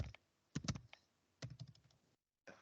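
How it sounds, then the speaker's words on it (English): Bursts of close keystrokes on a computer keyboard, clattering in quick irregular runs separated by short pauses, with a brief silence before a final flurry. "What I'm typing."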